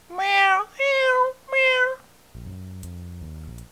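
Cat meowing in the video game Amagami: three clear, drawn-out meows close together, followed by a low synthesized game music tone with no talk.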